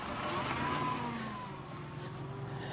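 A 1998 Pontiac Grand Prix GT engine runs rough with a steady low rumble and a wavering, slightly sagging pitch, heard up close at a moderate, constant level.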